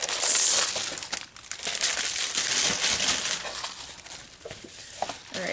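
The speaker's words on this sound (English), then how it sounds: "And you've got the full 12 by 12 sticker sheet too." A full 12 by 12 paper sticker sheet crinkles and rustles continuously as it is handled up close, with steady crisp crumpling throughout and no talk.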